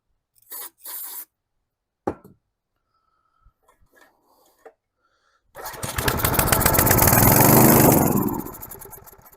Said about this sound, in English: Probably gonna have to keep priming it with this.